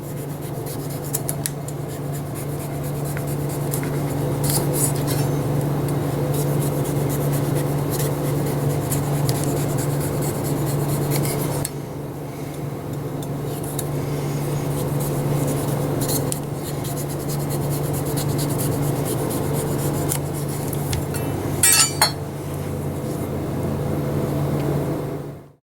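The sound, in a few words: knife cutting the rind off a butternut squash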